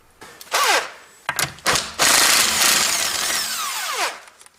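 A power tool, likely an impact wrench or drill, spins off car wheel bolts during brake work for a stuck brake, with several short bursts followed by a long sustained whirr that winds down, close and fairly loud.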